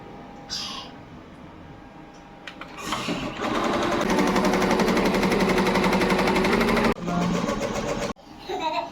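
A computer embroidery machine stitches on net fabric, starting after a few faint knocks and running loud with a fast, steady mechanical chatter for several seconds, then briefly stopping and restarting near the end.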